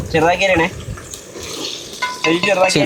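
Garlic sizzles in a hot pan with prawns for creamy garlic prawns, a steady frying hiss under a speaking voice, with brief utensil clatter as it is stirred.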